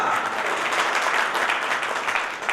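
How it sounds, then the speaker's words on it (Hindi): Sustained, even applause from a crowd at a Jain community meeting in Alwar, with dense overlapping claps that fade slightly at the end. "हमारे युवा साथी महावीर जैन साहब के लिए जोरदार तालियां।"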